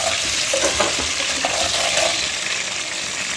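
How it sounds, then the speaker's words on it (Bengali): Potato pieces fry in hot oil for chicken dum biryani, a loud, dense, continuous sizzle with occasional stirring scrapes close by. "আমি প্রথমে আলুটাকে ভালো করে তেলে ভেজে নিলাম।"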